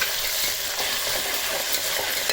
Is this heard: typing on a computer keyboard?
no